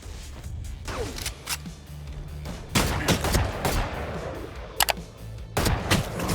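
Gunfire in a video game, with scattered single shots and short bursts at varying loudness, some close and sharp, others more distant, separated by brief gaps of quieter background.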